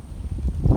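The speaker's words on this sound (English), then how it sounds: "It's really windy today." Low, rumbling wind buffets the microphone in a short gust outdoors by a custard apple tree, growing louder toward the end.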